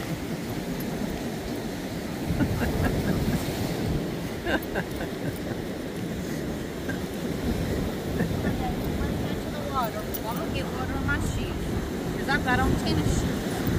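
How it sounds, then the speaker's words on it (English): Waves washing in on a beach, a continuous rushing roar under wind buffeting the microphone, with people talking and calling out over it. "Should have warned me the waves are coming in."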